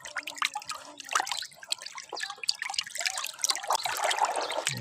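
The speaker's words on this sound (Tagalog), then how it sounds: "Haluin lang po natin hanggang sa matunaw yung asin." Salt and molasses being stirred into water for fermenting organic chicken feed, giving irregular light trickling, splashing and dribbling liquid sounds, close and fairly quiet, without voices.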